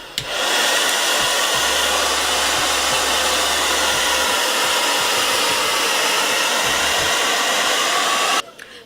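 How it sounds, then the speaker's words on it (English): A handheld hair dryer blows steadily on lace frontal glue to make it tacky during a glueless lace frontal wig install, a loud continuous whooshing roar running close and unbroken for about eight seconds before cutting off. "I'm going to blow dry it to get it a little tacky"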